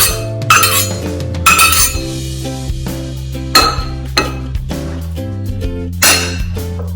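Chopped cucumber pieces tumble into a glass bowl, giving bright clinks and taps in several quick bursts against a steady background hum.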